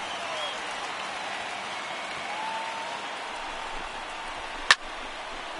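A baseball stadium crowd of over 39,000 on their feet sends up a steady, broad roar of cheering and applause with two outs on a full count, broken by one sharp, sudden crack near the end.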